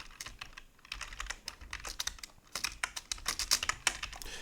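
Fast typing on a computer keyboard while entering Python code, a continuous close run of crisp key clicks with irregular rhythm and no talking.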